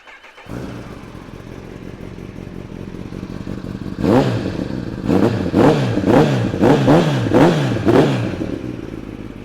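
A 2016 Kawasaki ZX10R sportbike with 5263 miles cranks and fires into a loud steady idle, then takes a series of sharp throttle blips, each rising and falling in quick succession, close and alone.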